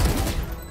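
Gunfire in Valorant as shots are fired through boxes: a dense, loud burst of rapid shots packed into under a second, with no voices.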